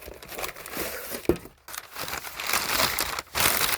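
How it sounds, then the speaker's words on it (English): Packing paper from a Buck 110 Folding Hunter knife box is crumpled and crinkled up close in bursts of rustling, with one sharp crackle and brief pauses between handfuls. "Packing paper."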